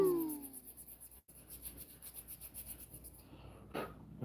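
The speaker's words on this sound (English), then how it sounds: "we're going to scuff up the back of this because I don't trust anything that's not wood" Something is rubbed and scuffed against the back of an object with short repetitive abrasive strokes, a soft rhythmic scratching close by and fairly faint. A brief thump comes midway and a louder rustle comes near the end.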